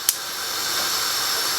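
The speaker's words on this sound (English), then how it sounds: "I'm just going to turn my fire on." A gas stove burner ignites with a sharp click, then settles into a steady, close whooshing hiss of flowing gas flame that holds evenly to the end, with no talk.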